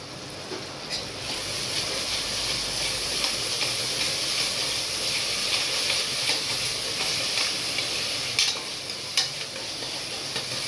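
Small-onion (shallot) paste sautéing in a pan for egg biryani, a steady broad sizzle with faint stirring scrapes running continuously, close and fairly loud, no talking.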